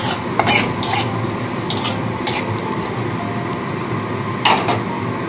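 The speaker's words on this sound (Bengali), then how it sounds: "ফোড়নটা নাড়াচাড়া করে নিয়ে এর মধ্যে কেটে রাখা টমেটোগুলোকে দিয়ে দেবো।" Chopped tomatoes are stirred into a tempering of bay leaves, a dried red chilli and whole cumin in a pan. Soft scraping and stirring continue under a light sizzle, with a few sharp clinks of a utensil against the pan.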